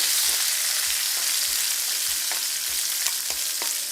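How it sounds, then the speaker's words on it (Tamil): Curry leaves and chillies frying in hot oil give a dense, constant sizzle, with a few soft stirring knocks underneath and no talking. "நாங்கள் கருவேப்பிலையை போடுவோம். கொஞ்சம் முருகட்டும்."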